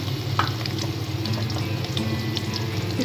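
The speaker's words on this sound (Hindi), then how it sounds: "प्याज हमारा ब्राउन हो रहा है" Sliced onions frying in oil in a pan while they brown for aloo gosht: a steady, close sizzle with faint crackles and occasional light stirring clicks, with no talking.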